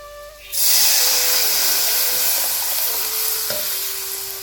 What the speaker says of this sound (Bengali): পেঁয়াজটা ভাজা হয়ে গেছে, এখন দিয়ে দিব ডালটা।